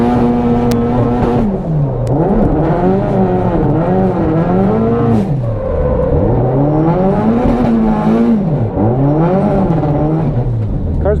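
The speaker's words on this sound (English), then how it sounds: "I can't tell if that was rev limiter or breaking up." A Nissan S13 engine on a race track holds steady high revs with a repeated rising-and-falling wavering pitch, stuttering like it is breaking up or bouncing off the rev limiter, loud and close throughout.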